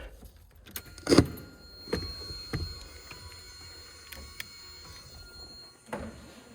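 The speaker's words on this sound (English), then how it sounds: "It moves slow, but at least it moves now." A 1984 Mazda RX-7 power window motor running slowly, heard as a faint, sustained whir inside the car, broken by a few sharp clicks and knocks from switches and the door.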